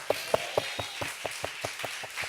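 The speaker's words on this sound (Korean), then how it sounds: "오늘 하나님께 영광 박수 올립니다." Church congregation clapping during a Wednesday worship service, a sparse run of about a dozen distinct claps in a quick, slightly uneven rhythm, faint against a quiet room.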